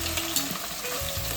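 Chopped ginger, garlic and onion hit hot oil and ghee in a pan for prawn biryani, giving a close, continuous crackling sizzle with no voices.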